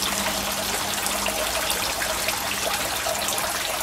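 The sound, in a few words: fresh water trickling into a fish tank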